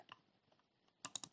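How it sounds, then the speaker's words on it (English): Computer keyboard typing during a Python pandas coding session: a quick run of four or five crisp key clicks at the end, after near silence, faint and close. "I can do it easily by typing first"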